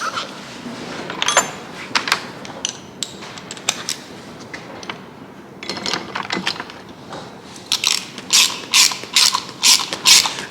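Ratchet wrench tightening bolts on Timbren camper springs, rapid clicking in uneven bursts that quicken and grow louder toward the end, close up with no talking.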